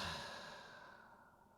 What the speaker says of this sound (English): a couple of those nice deep exhales out your mouth